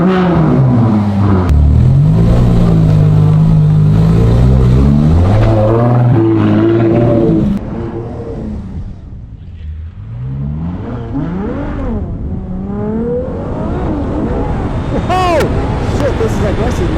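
Ferrari Monza SP1 engine accelerating hard on a track, a loud continuous revving roar with rising and falling pitch as it climbs through the revs, heard from inside the open cockpit.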